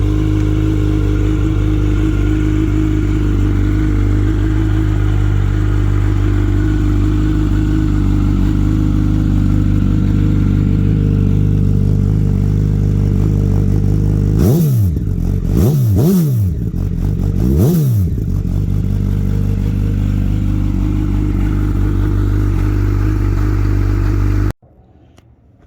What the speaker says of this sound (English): That audio of the exhaust as it really sounds, because it's a real deep,